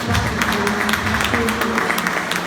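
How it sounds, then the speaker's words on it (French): A hall audience at a meeting in Paris applauds in tribute to Thierry, a steady broadband patter of many hands over low background murmur. "un tonnerre d'applaudissements pour Thierry"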